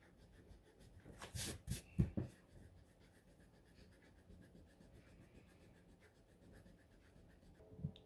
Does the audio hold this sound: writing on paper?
yes